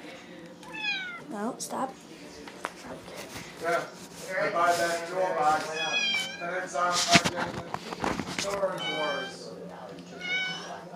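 Several house cats meow repeatedly in bursts throughout, some drawn-out and whiny, close by, mixed with a person talking over them.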